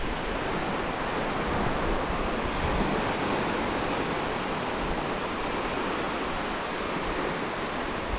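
Ocean surf breaking steadily on a beach during surf fishing, a loud continuous wash of waves with no pause across the whole stretch.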